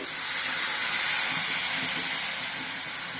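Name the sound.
curry boiling in pot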